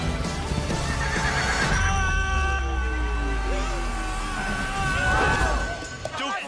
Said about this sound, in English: Where's that damn horse at?